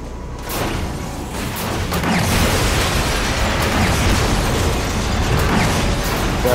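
The Sentinel Arm Cannon in the Deadpool video game fires an explosive beam, a loud, sustained roaring blast layered with crackling bursts and booms that builds and holds without speech.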